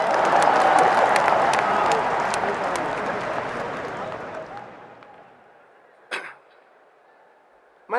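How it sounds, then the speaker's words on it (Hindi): Loud audience clapping at a motivational speech, strong at first then gradually fading to near silence over about five seconds, followed by a couple of isolated sharp knocks. "ठोको ताली"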